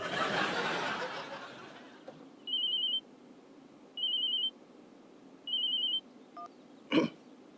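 A telephone rings in three evenly spaced electronic trills, clear and close, followed by a short click and a thump.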